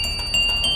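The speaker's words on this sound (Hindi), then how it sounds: "अचानक मंदिर की घंटी अपने आप बज उठी" A temple bell rings on its own as a story sound effect, a bright sustained metallic tone with a second strike adding to the ring, close and clear.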